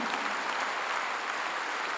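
Continuous clapping from a church congregation during a sermon, a steady, even wash of hands at moderate volume with no speech over it.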